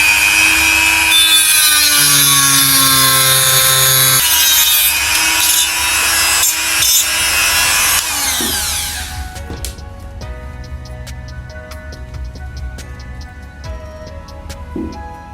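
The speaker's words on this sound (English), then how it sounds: "I have now cut the screws short for the standoffs, they were too long." Screws being cut short for carbon-fiber quadcopter frame standoffs: steady, close rasping saw strokes for about eight seconds, then quieter scattered scraping and clicks.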